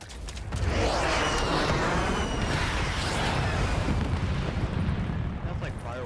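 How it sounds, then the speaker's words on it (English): A friendly airstrike in a video game: a dense barrage of booming explosions and crackling blasts rolls on continuously, loud and chaotic, with no clear gaps between impacts. "Friendly lightning strike inbound."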